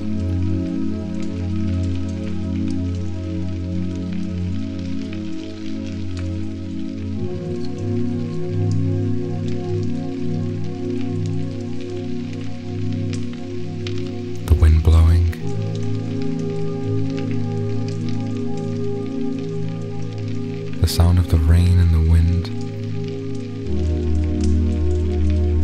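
Steady rain patters continuously beneath soft, sustained droning tones, with a couple of brief louder rustles partway through.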